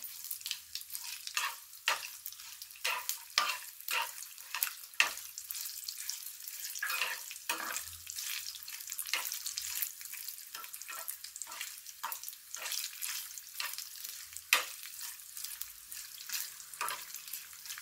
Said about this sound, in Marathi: खोबऱ्याला पण आपल्याला याच्यामध्ये भाजून घ्यायचंय।